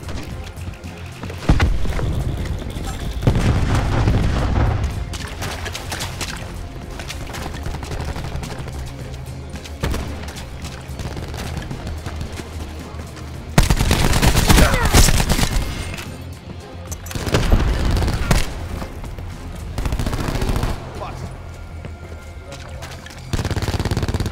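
Marksman rifle gunfire in the video game Black Ops 4, heavy loud bursts and booming shots recurring across the scene amid dense game effects.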